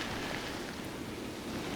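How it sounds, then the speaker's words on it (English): Rain falling on a river makes a steady, even hiss of drops across the water, moderately faint and unbroken for a short moment. "the rain just gives a certain amount of interference"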